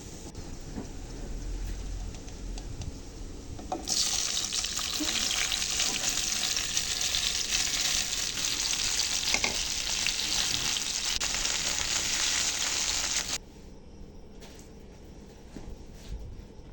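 Boiled chalta fruit pieces, cooked with turmeric, sizzle and crackle loudly in hot oil in a pan for pickle, a steady dense frying hiss with occasional stirring scrapes that stops abruptly near the end.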